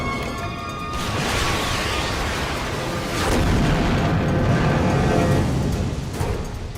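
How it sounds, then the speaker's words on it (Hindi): Movie explosions blowing up targets, heard as a sustained roaring, rumbling blast that swells again midway and stays loud and broad for several seconds without speech. "अब मैं अगला टारगेट उड़ा रहा हूं।"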